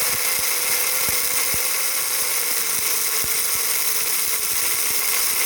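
A small electric motor fitted in a 1990 Mazda MX-5 diecast model car runs with a steady, close whirring hiss and irregular light ticking and rattles, with no pauses.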